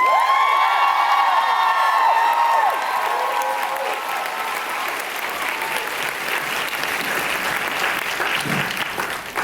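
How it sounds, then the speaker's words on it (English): A crowd at a convention main panel breaks into loud, sustained applause for the band, dense clapping with scattered cheers and whoops that stays strong throughout. "Gonna go a real quick round of applause for the band."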